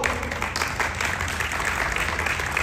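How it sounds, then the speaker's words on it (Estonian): Audience applause after thanks at an opening event at the Estonian National Museum, a steady dense wash of clapping filling the whole stretch without pause. "Aplaus!"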